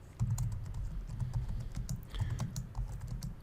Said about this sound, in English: We just click in the text box and start typing